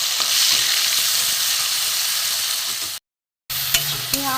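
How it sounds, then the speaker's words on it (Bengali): Chopped onion, green chili and tomato sizzle steadily in a hot pan, a dense continuous crackle that cuts out briefly near the end, then resumes with a few scraping stirs. "একটু ভালো করে ভেজে নেব।"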